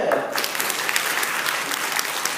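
A group of participants at a training session in Nakhon Sawan for people with disabilities and volunteers claps hands together, a dense, continuous burst of applause, close and fairly loud, starting sharply and holding steady.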